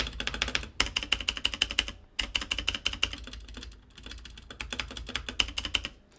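Redragon K530 60% mechanical keyboard with lubed stabilizers being typed on: steady runs of crisp, clacky keystrokes in quick rhythmic bursts with brief pauses, close and clear, no talking.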